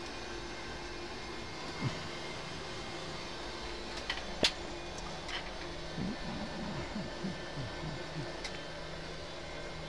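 A simulated Boeing 737-800 from the Level D model in the Prepar3D flight simulator spools up for takeoff, a steady moderate jet engine roar. Faint scattered clicks and brief transient tones sound over the roar, and there is no talking.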